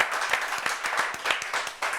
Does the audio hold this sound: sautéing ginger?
no